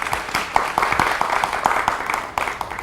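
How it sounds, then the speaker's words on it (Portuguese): A moderate crowd at a conference on Mozambique's role in global trade applauds the sponsors with sparse, distinct claps over a steady wash of clapping, near and even throughout. "Uma salva de palmas para eles."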